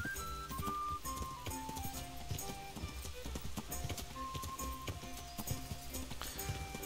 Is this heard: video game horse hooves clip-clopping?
yes